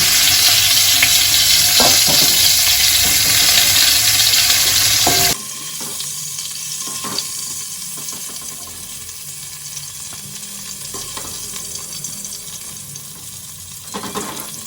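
Cauliflower pieces frying in mustard oil, a loud steady sizzle that drops sharply partway through to a quieter bubbling crackle with occasional clinks, close up and without talk.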